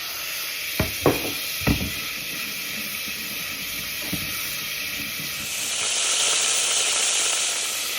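Fennel seeds sizzle in a hot pan of oil and butter as a steady close hiss, with a few sharp taps early on, and the sizzle swells louder and brighter in the last few seconds, no voices.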